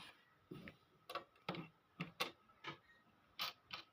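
A sewing machine runs a thick seam along net fabric for a puff sleeve, with short mechanical bursts of ticking stitches separated by brief pauses, close and fairly quiet.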